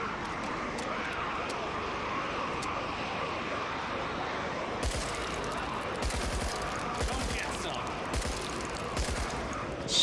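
Video game gunfire in the zombie shooter Contagion, with a few scattered shots that give way to rapid, sharp bursts in the second half over a dense, rumbling backdrop.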